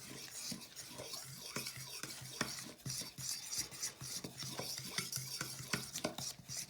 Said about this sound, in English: I want to mix all that together. So I'm just going to use a fork.